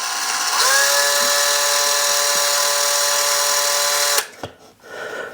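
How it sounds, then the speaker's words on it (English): A power drill slowly bores a pilot hole into a wall for a curtain rod, the motor whining steadily and loud for about four seconds before stopping abruptly, followed by a brief clatter and low handling noise. "we're going to drill very slowly to make sure we don't hit that stud"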